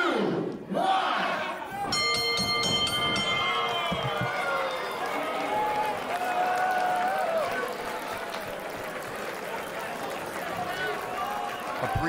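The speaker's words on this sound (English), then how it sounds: "Appreciation from the crowd, and all you can do is clap from a valiant effort from both parties, Mitch." A crowd at a live wrestling match claps and cheers in a sustained roar of applause, loud and continuous throughout, with a commentator talking over it.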